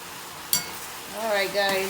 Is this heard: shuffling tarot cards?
no